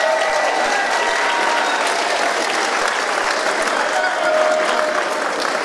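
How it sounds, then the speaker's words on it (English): Loud, dense audience applause for dancers at a Russian language and culture group event, a continuous roar of many hands clapping close by, with a few louder individual claps and faint voices mixed in. "Please give them another round of applause"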